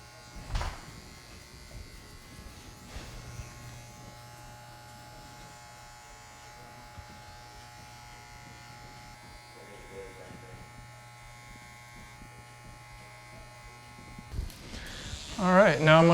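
Electric hair clippers hum in a steady, close buzz while edging the corners of a haircut on a head, running continuously before a louder burst of handling at the end.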